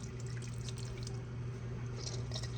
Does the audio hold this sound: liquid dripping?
yes